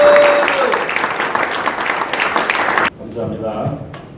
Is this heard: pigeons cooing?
no